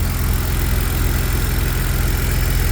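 BMW E46 engine idling smoothly with headers and an intake, giving a steady, even low hum with no ticking, continuous and close, no voices.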